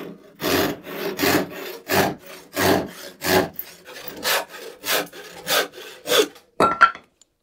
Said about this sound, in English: I'll just cut this one with the handsaw